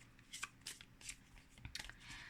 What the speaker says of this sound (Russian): пока тасую колоду